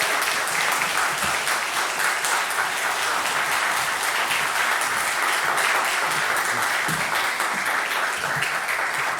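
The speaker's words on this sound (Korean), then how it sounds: "우리 목사님 두 분 앞으로 나오실 때에 박수로 맞이하도록 하겠습니다" A church congregation at a Sunday worship service claps to welcome two pastors to the front, the applause dense, even and sustained throughout, with no voices rising above it.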